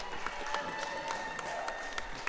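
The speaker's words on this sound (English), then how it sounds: "Crowd goes absolutely wild." A crowd at a powerlifting meet applauds in a steady wash of clapping, fairly distant and moderately loud, carrying on without pause and with no clear talking over it.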